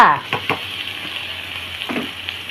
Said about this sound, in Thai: ใส่หมูสับของเราลงไปเลยจ้า